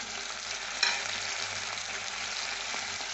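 Ginger, garlic and onion paste dropped into hot oil in a pan for green egg curry, a steady loud sizzle with a small clatter near the start and faint stirring, no speech.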